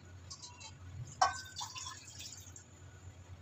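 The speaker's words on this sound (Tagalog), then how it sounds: "eto, lalagyan kong tubig yung ating kawali" Water pours into a frying pan being prepared for steaming tilapia, a faint trickle with a sharp splash near the middle, followed by a few lighter drips against a quiet kitchen background.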